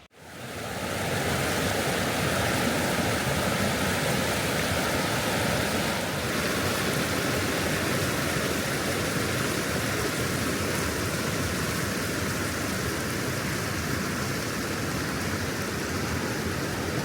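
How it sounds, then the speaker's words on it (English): A nearby creek at a campsite in the Eastern Sierras, a continuous broadband rush of flowing water that holds steady and fairly loud throughout, with no voices. "We spent another relaxing evening listening to the sounds of the nearby creek"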